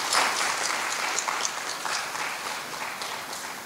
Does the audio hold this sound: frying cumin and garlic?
no